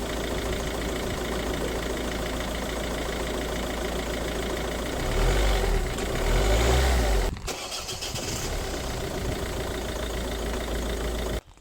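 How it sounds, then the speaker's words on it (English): A Ford 1.6 TDCi / Peugeot Citroën 1.6 HDi diesel engine idles steadily close by, then is revved briefly around the middle before settling back to a smooth idle, with a short drop near the end. "I'll get a wee little rev now, and then it'll start perfectly every time now."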